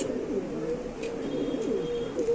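Pigeons of the Tulip breed cooing softly and steadily at a pigeon sale, a continuous low murmur with no voices.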